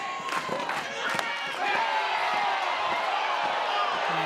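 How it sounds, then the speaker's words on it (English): Spectators at a Big Ten college softball game between Washington and Oregon react to a close pitch, a steady wash of crowd noise with scattered shouts and claps that swells slightly partway through. "The crowd wanted strike 3"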